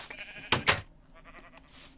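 Sheep bleating in the Minecraft video game, two short loud bleats close together followed by fainter game sounds, with no talking.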